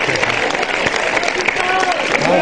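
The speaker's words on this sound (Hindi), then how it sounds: "भरपूर तालियों में भरपूर नारों के साथ डॉक्टर ए क्यू खान साहब को शुक्रिया अदा करें" Studio audience at a televised Ramadan iftar show applauding and cheering, a dense steady wash of clapping and shouting voices throughout at close range.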